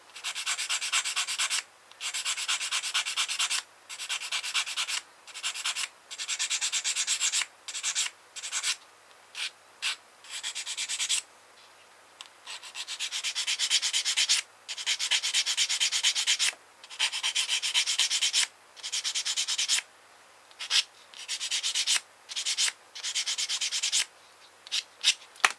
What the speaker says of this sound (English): there's a few nubs on there, so we find a sanding stick and just